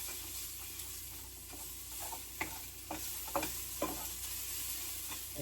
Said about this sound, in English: Bacon rendered off so I can get those onions in there.